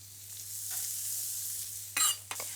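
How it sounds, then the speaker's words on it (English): Shallots and garlic hitting a hot roast pan with caramelised bits, a quiet hiss of sizzling followed by two short bursts of stirring or scraping near the end. "So in with our shallots and garlic"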